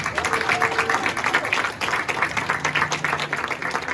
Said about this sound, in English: So ladies and gentlemen, let's give them a round of applause.